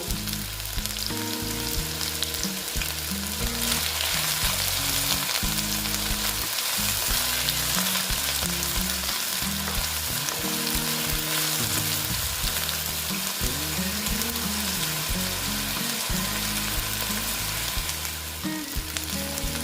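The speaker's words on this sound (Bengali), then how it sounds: "রুটিগুলো আমি ভেজে নেব" Rotis frying in hot oil make a loud, continuous, dense sizzle that holds steady throughout, close up and with no one speaking.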